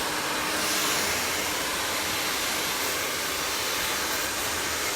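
A hair dryer with a nozzle attached blows steadily during a graduated bob haircut, a loud, constant, close rushing whoosh that fills the whole stretch without a break.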